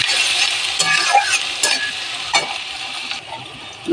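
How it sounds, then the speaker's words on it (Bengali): Chopped onions with green chilli, dried red chilli and five-spice seeds frying in oil until reddish, stirred with steady scraping over a continuous bright sizzle, close and fairly loud, with no voices. "লাল লাল ভাজা হয়ে গেছে পেঁয়াজগুলো"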